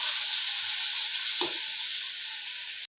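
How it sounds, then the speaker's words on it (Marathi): Tomato frying in hot oil with cumin, giving a steady close sizzle that runs unbroken for about three seconds. A brief soft stir-like clatter comes partway through, and the sound cuts off abruptly at the end. "त्याच्यामध्ये टमॅटो सोडायचा, तो पण चांगला मऊ होईपर्यंत त्याच्यामध्ये तळू द्यायचा"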